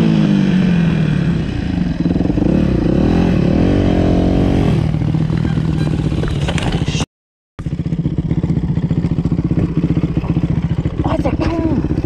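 A motorcycle engine runs loudly and close throughout, with revving swells near the start, a brief cut to silence in the middle, then a steady, rough idle resumes during a police traffic encounter.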